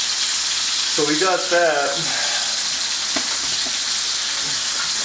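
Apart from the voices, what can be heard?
meat for tamales searing in a hot pan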